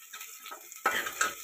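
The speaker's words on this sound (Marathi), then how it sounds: "असा कांदा थोडा लाल होईपर्यंत त्याला परतून घ्यायचा आहे." Sliced onion for dal tadka sautéing in a pan over a low flame, a soft sizzle that swells at about 0.85 s with sharp metal scrapes and clinks of a spoon against the pan, close and without talk.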